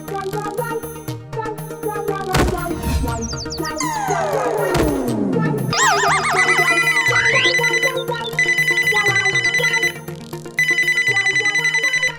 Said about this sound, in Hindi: अरे बाप रे, बीवी का फोन आ रहा है